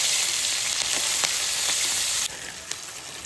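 Cumin seeds and bell pepper sizzle hard in a pan over a hot wood-fired clay stove, a loud steady hiss with a few sharp pops, easing slightly toward the end.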